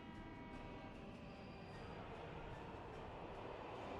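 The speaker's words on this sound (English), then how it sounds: "there's a train coming in." A metro train arrives at a station in Workers & Resources: Soviet Republic, heard as a faint, steady rail rumble and hiss with thin tonal whines from the approaching train, continuous throughout.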